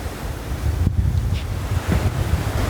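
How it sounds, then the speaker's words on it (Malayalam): Strong wind gusting across a beach in Barbados, with rolling surf and waves close by, a steady roar of wind buffeting the microphone throughout and no speech. "നല്ല കാറ്റ്"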